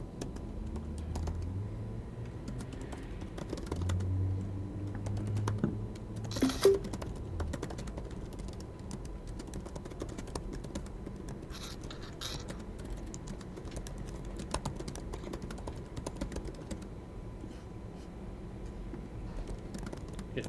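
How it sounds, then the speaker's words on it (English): Typing on a computer keyboard during a live web-building demo, a steady patter of keystrokes running through the whole stretch at a low, even level with no one speaking. "I was typing."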